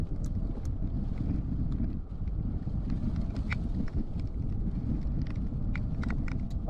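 Gusty wind from Hurricane Beryl making landfall in Texas roars steadily and loudly across the microphone, a dense, continuous buffeting with small surges and rattles throughout.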